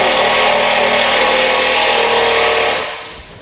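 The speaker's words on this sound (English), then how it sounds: "I'm just going to use a self-tapping screw and run it right in" Power driver whining steadily as it runs a self-tapping screw into a metal trailer frame, loud and close for about three seconds before spinning down and stopping.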